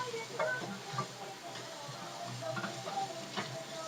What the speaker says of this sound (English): I'm going to pop another pat of butter in there to really get the onions, the shallots, and the garlic down. I'm going to kind of mix that in.